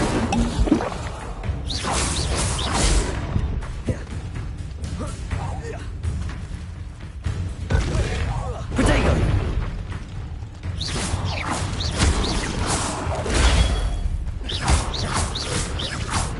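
Levioso and Incendio spells cast in Hogwarts Legacy: repeated whooshing magical bursts with booming, creaking impacts over a busy game soundscape, fairly loud and steady throughout.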